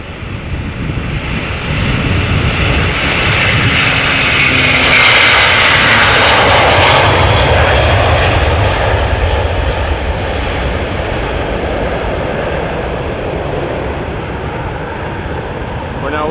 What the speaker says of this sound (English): We're now watching an A330-300 from Delta Airlines take off, destined for Seattle.